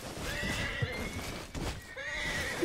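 Horse in Red Dead Redemption 2 whinnying twice with a rising, wavering neigh, over a steady backdrop of hoof clopping and game ambience, fairly close and clear.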